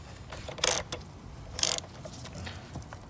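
A bolt on a 2017 Honda Rebel battery terminal being snugged down with a hand tool: two short bursts of metallic ratcheting clicks, close by, with quiet pauses between them.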